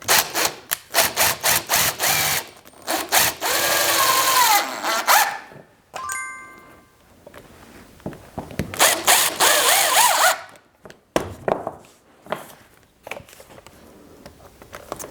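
A drill drives 2-inch GRK trim head screws into 2x4 scrap wood, in several loud bursts of whirring that each climb in pitch, separated by short pauses and handling clatter.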